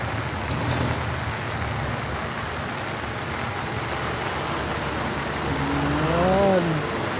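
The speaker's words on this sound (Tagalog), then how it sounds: "Malakas naman ang ulan." Heavy rain pours in a dense, constant hiss on a street in Cainta, Rizal, with a passing vehicle rising briefly near the end.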